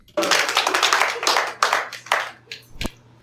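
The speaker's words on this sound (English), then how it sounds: "Hear those people clapping?" A small group of people claps at a wedding-style ceremony, a close, uneven patter of hands in bursts that thins out into a few scattered final claps.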